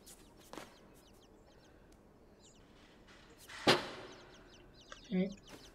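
Birds in the video game Inside give a few brief clucking calls, one sharp, louder burst midway and another near the end, over quiet ambience with small scattered sounds.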